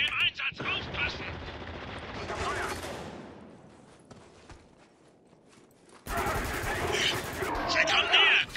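Gunfire from the video game Spec Ops: The Line comes in bursts of rapid shots at the start and again toward the end, with a quieter stretch between them.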